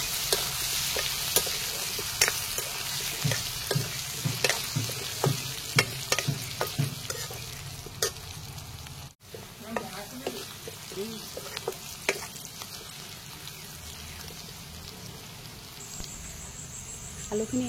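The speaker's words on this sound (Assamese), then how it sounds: "আলুখিনি এয়া ধুনীয়াকৈ ৰঙচুৱা হোৱালৈকে ভাজি ল'লোঁ।" Potatoes fry in a pan for an Assamese curry, sizzling steadily while a utensil stirs and scrapes, giving close clicks and knocks with a brief pause near the middle.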